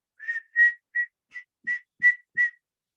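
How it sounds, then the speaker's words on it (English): Seven short, clear whistled notes from a person, evenly spaced and close, alone in quiet surroundings with no talking. "whistling,"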